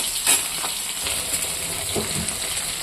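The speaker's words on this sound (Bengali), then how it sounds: "মাছটা একটু লাল লাল করে ভাজবো।" Rohu fish fries in hot oil, a dense steady sizzle up close with a few soft crackles and utensil taps, no voices.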